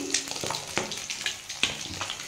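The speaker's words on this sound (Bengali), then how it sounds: "আমি মাছটা ভেজে নিচ্ছি।" Pieces of cut rohu fish frying in a pan, a soft continuous sizzle broken by intermittent pops and splatters, close by and with no talking.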